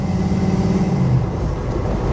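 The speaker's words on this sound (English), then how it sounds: "It just makes this big, girthy American noise every time you hit the gas pedal" An American V8 muscle car engine rumbles loud and close with a deep, steady low-end growl, holding a throaty drone throughout with only slight swells as the throttle is worked.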